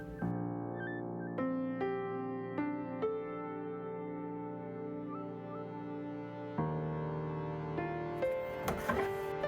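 A 3D printer printing a frog model in Ujoy Bio filament, its stepper motors singing in steady tones that jump in pitch with each move, with a few soft clicks and rattles near the end.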